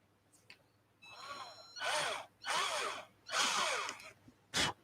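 Several loud bursts of a power drill biting into a Cobra 2000 CB radio while fitting a clarifier control, each lasting under a second with short pauses, the motor pitch bending as it works.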